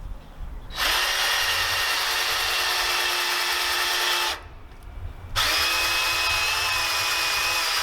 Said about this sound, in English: So now we're just going to drill these bad boys.